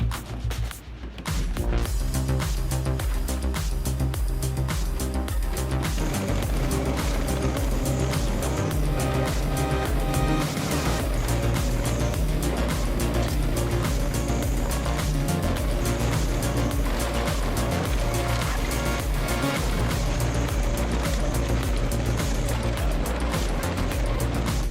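An excavator-mounted stump grinder chews through a tree stump, producing a loud, continuous grinding roar with dense mechanical clatter and hydraulic engine drone that holds steady for the whole stretch.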